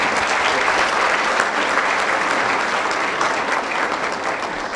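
An audience at a school ceremony at The Westminster School in Dubai applauds steadily. The close, dense clapping holds at an even level for the whole stretch and gradually thins slightly toward the end.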